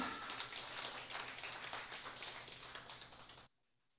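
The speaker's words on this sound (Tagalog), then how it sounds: "So, palakpak po sa ating pong Panginoon." Congregation at a Filipino Sunday church service clapping together, a soft, rapid patter of many hands heard from a distance that continues steadily, then cuts off abruptly near the end.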